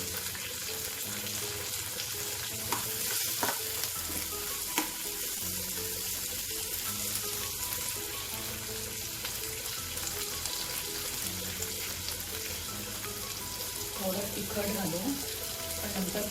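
Steady, close sizzling of vegetables frying in oil in a pan for a curry as cumin powder goes in, a continuous hiss with occasional faint clinks of a spoon.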